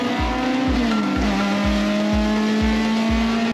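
A Honda Civic Ferio being driven, a steady engine drone with a rhythmic low thump repeating about every half second, likely from the road surface, loud and continuous, with no talking.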